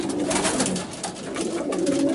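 Racing pigeons cooing inside a breeding loft, soft repeated throaty coos blending into a dense, steady background of birds murmuring and shuffling.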